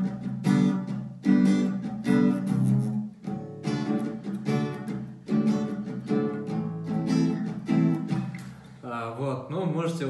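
Acoustic guitar strumming pattern for a song, with rhythmic chord strokes in repeated bursts, some muted hits between ringing strums, played close and clear.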